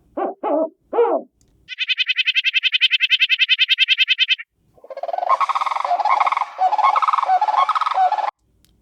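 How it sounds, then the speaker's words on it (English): A spotted owl gives a few short hooting barks, then a long rapid series of nasal notes, and finally wavering, rising screechy calls, all loud and close with no other sounds. "And then there's a spotted owl."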